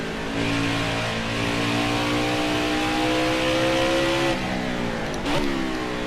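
Video game race car engine revs climb steadily in pitch, then a sharp tire squeal from the outside left tires cuts in near the end, loud and close, with no talking.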